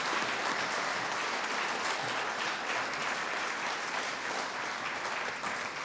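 Audience at a Boys and Girls Club donor appreciation luncheon applauds steadily, a dense wash of many hands clapping at an even level throughout.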